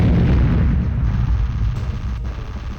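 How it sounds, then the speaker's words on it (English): Apocalypse Cannon fire in the video game Storm Winds: a continuous, heavy roar of overlapping booming blasts, loud and dense, with deep rumble throughout and no speech. "I'm using the Apocalypse Cannon and I am spamming the hell out of it"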